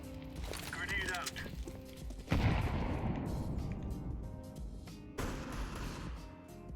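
A grenade explodes in a first-person shooter with a sudden, heavy boom that rumbles away over a couple of seconds, followed by a second, smaller blast amid ongoing game noise.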